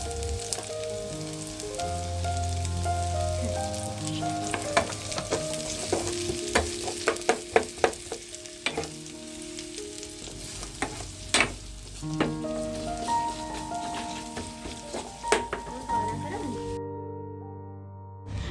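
Chopped ingredients frying with tempered spices for a fish curry sizzle steadily beneath prominent background music, with occasional sharp clicks and clatters from stirring.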